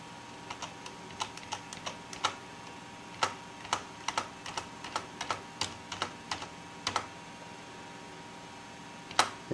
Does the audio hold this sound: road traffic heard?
no